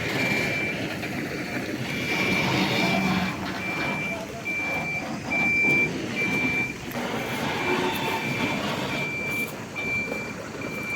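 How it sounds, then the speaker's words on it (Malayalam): Steady, evenly spaced high-pitched reversing beeps from a truck repeat throughout, over a rumbling engine and traffic noise. "ചേട്ടൻ റിവേഴ്സ് എടുക്കുന്നുണ്ട്"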